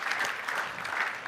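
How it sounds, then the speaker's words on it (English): Applause from an audience at a business Q&A panel, a brief, faint patter of many clapping hands that stays even from start to end. "I think that does deserve a round of applause"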